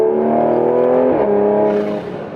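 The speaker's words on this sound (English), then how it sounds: "it just sounds so proper now with the AW exhaust and then this A90 Garage downpipe" A Toyota Supra A90 fitted with an A90 Garage downpipe and AW exhaust drives under load, its engine holding a loud, smooth droning tone that dips in pitch at a gear change before easing off.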